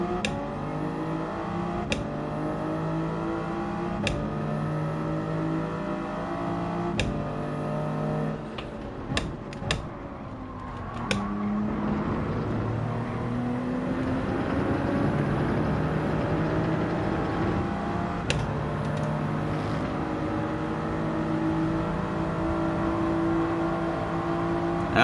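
A Toyota Supra engine in the racing game Gran Turismo 7 drones and revs continuously, with rising and falling pitch through gear changes, several sharp ticks and other cars close by, and no talk.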